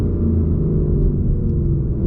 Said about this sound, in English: Wow, the downshifts.